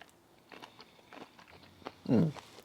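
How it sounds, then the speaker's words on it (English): A bite into a shrimp gives one close, crisp crunch followed by brief chewing, with soft handling noises before it. "let me try one of these shrimp"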